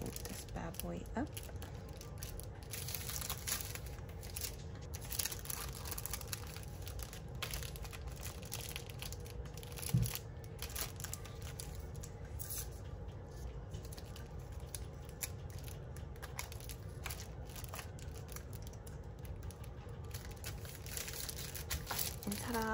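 A custom paper envelope for an order is folded up, giving soft crinkling, creasing and rustling paper sounds close by at low volume, with a voice faintly present at times.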